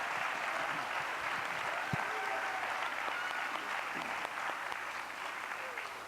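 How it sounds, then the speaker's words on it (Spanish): A church congregation at a Spanish-language Wednesday evening service applauds its pastors, a steady, dense wash of clapping that holds at an even level for several seconds. "Demos un aplauso a nuestros pastores."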